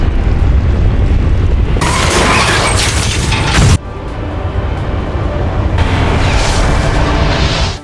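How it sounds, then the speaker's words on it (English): A military base is blown apart after its self-destruct sequence in an action film. Loud, rumbling explosions hit in waves, with heavy booms near two and six seconds over a continuous roar. "in a matter of moments, the entire base was obliterated"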